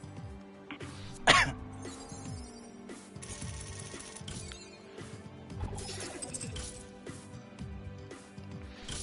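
One sharp, loud cough after taking a dab, followed by quieter throat sounds over a background of rhythmic music.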